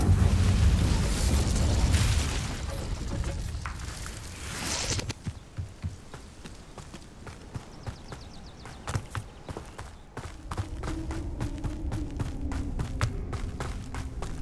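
An Incendio fire spell going off in Hogwarts Legacy: a loud roaring burst at the start that fades after a few seconds, followed by scattered clattering impacts and rumbling effects.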